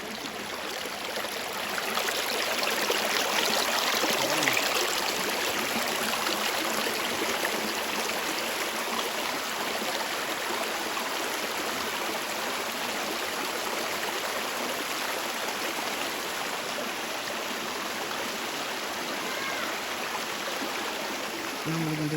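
Water pours steadily at Tada Falls as a broad, even rushing hiss, constant and moderately loud across the whole stretch, with no clear voices.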